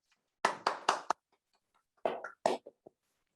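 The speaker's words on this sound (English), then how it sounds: "give us an applause to everyone here" A few scattered hand claps at an online finance conference on money markets, coming in two short bursts of sharp, moderately loud claps separated by a brief silence.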